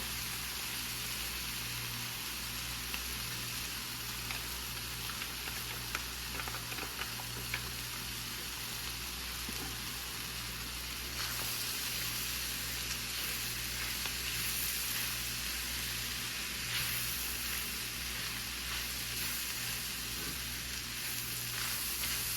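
Steady loud sizzling of homemade chili frying in a hot pan, with faint scraping and stirring sounds throughout and no talking.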